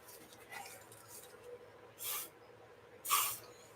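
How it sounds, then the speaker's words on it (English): Short hissing bursts of WD-40 silicone spray misted into a cup, two distinct blasts close by in a quiet room with faint clicks around them. "I sprayed my cup with the WD-40 silicone spray."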